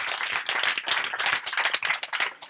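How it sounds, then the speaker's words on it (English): An audience at a Startup Grind Bali event on the beach in Sanur claps to welcome a speaker, dense clapping held at steady volume throughout. "give him a huge, warm round of applause"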